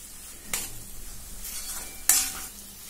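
Ground peanut paste sautéing with bottle gourd in a pan over a low flame, a soft steady sizzle broken by a few sharp scraping stirs of a spoon against the pan.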